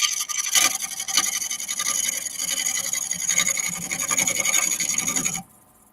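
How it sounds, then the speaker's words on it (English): Wood-turning chisel cutting a gum wood bowl on a lathe, a close, continuous scraping rasp that stops abruptly near the end, leaving quiet. "you move the chisel towards the back of the lathe, all right? Gently. So you're following the curve with the side bevel."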